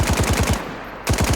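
Rapid automatic fire from a 9x39 rifle in DayZ, two loud close bursts of evenly spaced shots separated by a short pause, with no talk.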